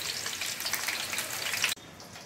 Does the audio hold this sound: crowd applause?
no